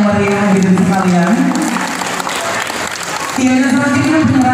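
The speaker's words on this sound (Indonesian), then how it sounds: "berikan tepuk tangan yang meriah" Crowd at a school alumni reunion applauds the regent, loud continuous clapping heard under someone talking over a microphone, with the voice dropping out briefly mid-applause.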